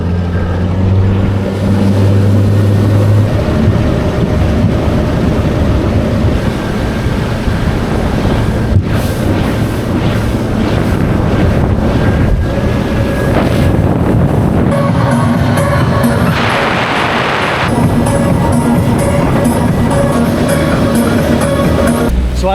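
A motorboat on the Intracoastal Waterway roars up to speed and planes, a loud continuous engine drone close by, mixed with heavy wind buffeting and hissing spray throughout, with no voices.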